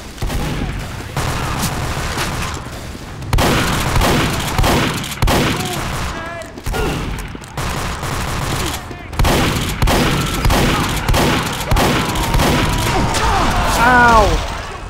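Rapid gunfire and explosions from the Heavy class in the first-person shooter Team Fortress 2, loud bursts of minigun fire broken by short pauses, with game effects and a voice now and then.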